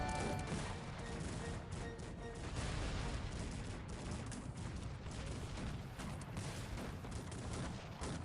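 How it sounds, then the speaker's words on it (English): Cannon fire rumbles on a Cossacks 3 tournament battlefield, a dense, continuous wash of booms and crackling volleys that blur together at a steady, loud level throughout. "There's some cannon fire going on"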